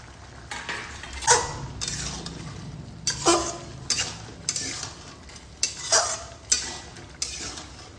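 Fried brinjal and small morala fish are stirred into a curry in a pan: a series of distinct scraping spatula strokes, roughly every second, over a faint sizzle.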